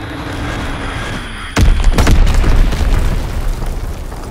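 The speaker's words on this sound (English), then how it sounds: "Blitz-X bomb mission underway." Bombs from a Blitz-X bomb mission in Call of Duty: WWII hit after a quiet stretch, a sudden heavy boom followed by a rolling series of loud blasts and rumbling debris.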